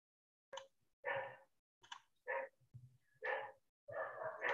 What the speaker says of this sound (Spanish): hoy los perros del barrio parece que los están saludando